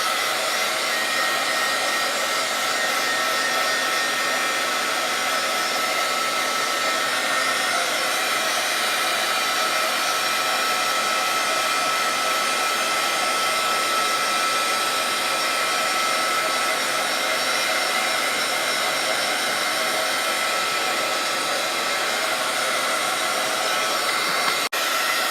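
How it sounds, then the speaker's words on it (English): A heat gun blows hot air to dry paint on a coloring page for Bible journaling, giving a steady, loud whooshing roar that runs unbroken for the whole stretch with no talk. "And now I'm going to use my heat gun and dry it."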